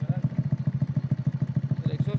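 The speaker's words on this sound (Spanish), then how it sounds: "en esa motocicleta, mire cómo está, escuche el motor" A motorcycle with a modified exhaust idles close by with a loud, rapid, even popping putter, steady throughout.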